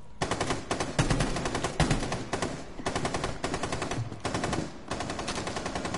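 A mounted machine gun in Rainbow Six Siege fires in long rapid bursts with short pauses between them, loud and close, each burst a dense rattling stream of shots.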